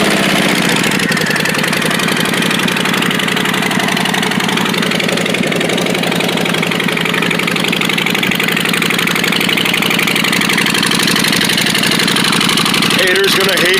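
A 2019 Harley-Davidson Street Bob engine idles in neutral, steady and loud nearby, with a throbbing rumble through homemade exhaust pipes, holding constant throughout.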